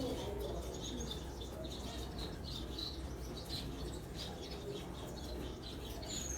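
Red eye Gouldian finches from an Italian champion line, ring-banded 2021 birds, chirp faintly and repeatedly over a steady low background hum, with soft cooing and wing flutters around them.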